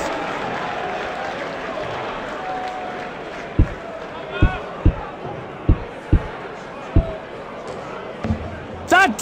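A PDC darts video game crowd hums steadily in the background, punctuated by a series of sharp dart thuds and a brief cheer at the end.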